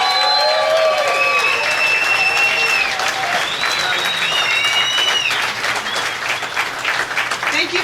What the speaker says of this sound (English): Can we just give them an amazing round of applause?